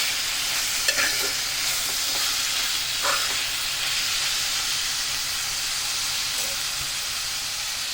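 Cabbage curry cooks in a pan with a steady close sizzle and hiss throughout, broken by a few soft stirring clinks.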